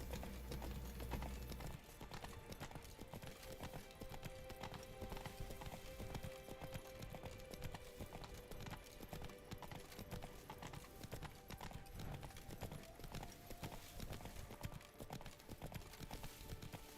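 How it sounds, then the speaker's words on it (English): Horse hooves clip-clop steadily on the ground as the rider's horse moves in The Witcher 3 video game, a continuous rhythmic trot with a brief whinny-like sound at the start, heard alone without talk. "Whoa there, Roach."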